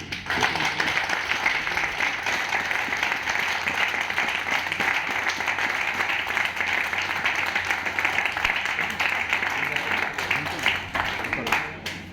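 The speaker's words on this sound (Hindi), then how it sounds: "तो एक बार जोरदार तालियां अपने लिए।" Loud, sustained clapping from a seminar audience at a Proveda business plan session, a dense continuous patter of many hands filling the room at steady strength throughout.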